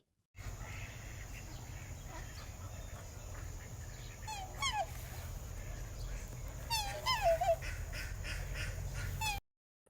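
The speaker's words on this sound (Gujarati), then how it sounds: "આ છે હંસ. તેને અંગ્રેજીમાં સ્વાન કહે છે. હંસ કેવું બોલે?" A swan gives a few short, sharp honking calls in two separate bursts over a steady low rumble, fairly faint and with nothing else prominent.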